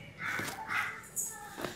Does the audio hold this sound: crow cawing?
yes